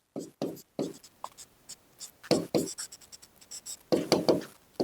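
Pen writing on paper during a Class 9 maths lesson on surface areas and volumes, close and clear: bursts of scratchy strokes in uneven rhythm, with short pauses between words and figures.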